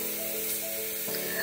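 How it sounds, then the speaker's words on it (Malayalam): Mustard seeds and chilli flakes frying in hot oil for a curry tempering, a continuous close sizzle and crackle with no speech over it. "കടുകിട്ട് വറുത്ത് കുറച്ച് ചില്ലി ഫ്ലാക്സും കൂടി അതിൽ ചേർത്ത് കൊടുത്തിട്ടുണ്ട്"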